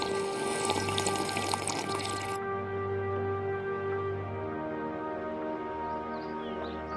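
Someone drinks water from a bottle, giving a steady, soft watery slosh over a low constant hum; the higher hiss drops away after about two seconds and a quieter background continues.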